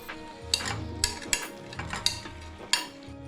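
Spinach curry with paneer being stirred in a pan, with a soft sizzle beneath repeated sharp scrapes and knocks of the spoon against the pan at an irregular pace.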